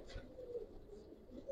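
A male Giribaz pigeon with a laddu collar and red gear coos softly and repeatedly at close range, low murmuring notes with no talk over them.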